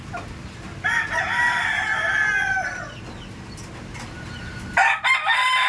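A rooster crows in a long drawn-out call at moderate distance, followed by a short burst of clucking.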